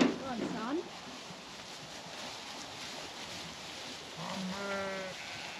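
Farm ewes bleat outdoors: one wavering bleat opens, then after a pause a second, longer bleat comes near the end. Both are moderately close over a faint breezy background.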